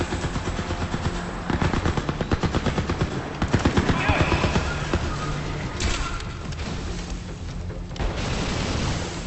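Turret machine gun fire in Crysis 3 on veteran difficulty, rapid bursts of sustained automatic shots with a few booms, loud and close, while someone talks over it.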